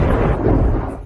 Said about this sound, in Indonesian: mengapa tiba-tiba ada guntur?